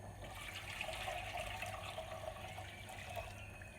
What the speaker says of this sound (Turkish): Şöyle 1 litre su koyuyorum.